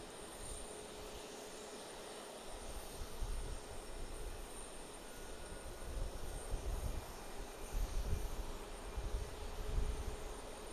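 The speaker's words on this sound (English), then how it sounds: "American Airlines, 737-800." An American Airlines Boeing 737-800 passes at a distance near an airport, a low, broad engine rumble that swells and fades unevenly, with no voices.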